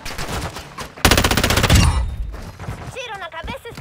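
Automatic gunfire rattles in a Call of Duty DMZ match on Ashika Island, a loud rapid burst of shots with scattered shots before it. A voice speaks briefly at the end.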